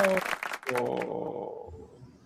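Applause from a small audience at an online UX talk breaks out after a brief burst of speech, settling into a steady, moderately loud patter of clapping that slowly fades.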